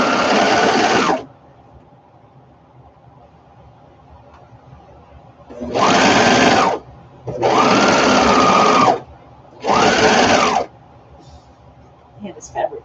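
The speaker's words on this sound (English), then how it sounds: "Everything I do is chain piecing when I'm doing process sewing." A sewing machine chain piecing fabric stitches in loud, steady bursts: one run, a pause, then three more close runs of a second or two each, with quiet gaps between them.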